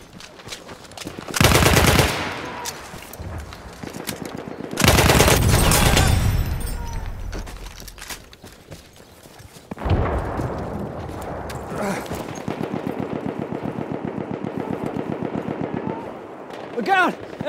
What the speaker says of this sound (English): It's an enemy machine gun!